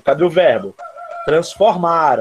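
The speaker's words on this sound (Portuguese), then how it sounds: "Olha o galo cantando." A rooster crows briefly during a Portuguese-language class, a short steady call heard between stretches of a teacher's talking.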